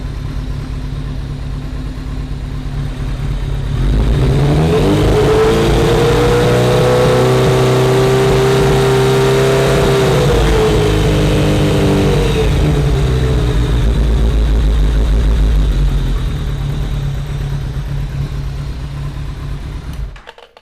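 A ZRX-1200 motorcycle engine fitted with rebuilt Keihin CVK carburetors, set to two turns out with a 40 jet, idles and then revs up and holds high. The steady, loud, throaty drone settles back down near the end, with no talking.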